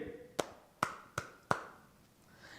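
Four quiet, distinct hand claps fall at slightly uneven intervals over a faint background, with no talking.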